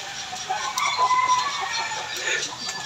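A hen clucks repeatedly while laying eggs near a provincial kitchen with a charcoal-blackened pot. The calls are moderately close, come in short uneven bursts and sit over faint background noise.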